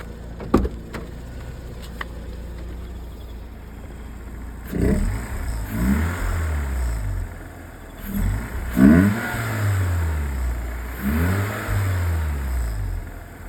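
A Mazda RX-8 rotary engine idles, then revs in three distinct rising bursts, breathing through a makeshift hot air intake; close and fairly loud, with no talking.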